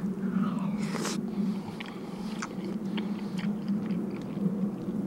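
Grilled oysters from a seaside barbecue being bitten and chewed up close, with soft wet crunches and smacking over a steady low outdoor rumble.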